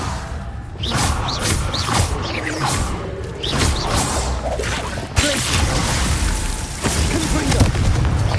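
Confringo fire spells cast repeatedly in the Hogwarts Legacy video game, with a run of booming blasts, whooshes and crackling bursts layered over dense game effects and a steady rumble, loud and close throughout.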